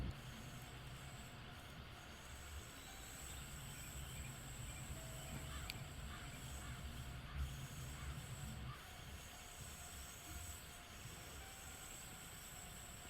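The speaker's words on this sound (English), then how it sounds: "So that's normal train sim sound." Default train running sounds in a train simulator video game, a faint steady rail rumble and hiss with light wheel squeal, without talking.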